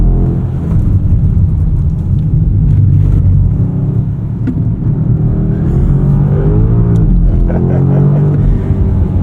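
A 2025 BMW M5, a heavy 5,400 lb sedan, lapping a track skid pad with the front end tucking in off throttle; a steady, loud engine and road rumble carries throughout, shifting slightly in pitch as the car turns.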